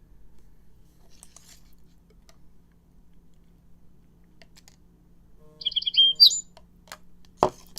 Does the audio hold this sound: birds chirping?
yes